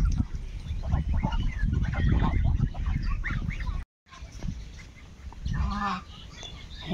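Domestic geese being fed, a busy flock honking and cackling close by, with loud feeding noise and a brief gap partway through.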